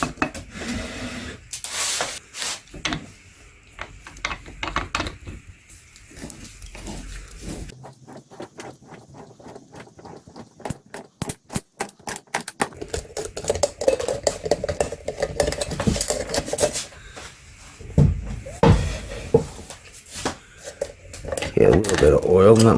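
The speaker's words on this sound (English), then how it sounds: "let's open this filter up" A Motorcraft FL500S oil filter being cut open, with repeated scraping, rubbing and metallic clattering in bursts and a busier, louder stretch toward the end, close up and with no talk.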